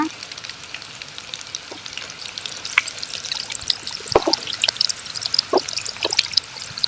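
Chicken pieces for crunchy popcorn chicken frying in medium-hot oil, a steady bubbling sizzle with scattered crackles and pops and an occasional soft stir, close and continuous.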